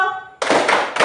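Hands clap together in a sharp burst, a quick pair of crisp claps close up with no voices over them.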